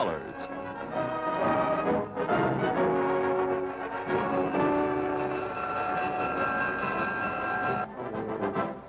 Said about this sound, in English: Boarding a special train for Washington, they'll tour 300 cities from coast to coast.